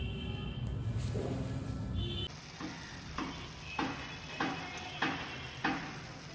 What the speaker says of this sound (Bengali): এবার কড়াইতে নাড়িয়ে নাড়িয়ে পুর তৈরি করছি